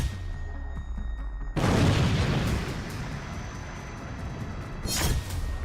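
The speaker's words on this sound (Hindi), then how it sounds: "जहां ईरानी शाहिद ड्रोन सीधे आकर गिरा और बड़ा धमाका हुआ" A Shahed drone, an Iranian-made kamikaze drone in Ukraine, crashes and explodes: a sudden loud blast cuts in over low background rumble, followed by a sustained roaring wash of debris and noise with a second burst near the end.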